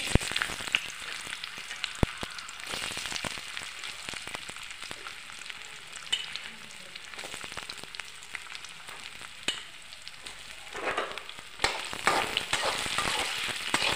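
Soaked sabudana, crushed peanuts, salt, tomato and potato fry in oil in a pan, a continuous loud sizzle broken by frequent spatula scrapes and clinks throughout, with no voices.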